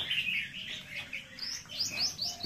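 Small pet birds kept by a Vietnamese bird keeper chirp and tweet in a steady, busy stream of high calls, several birds overlapping close by with no one talking.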